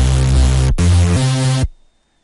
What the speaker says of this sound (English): so let's put it at light HF for now,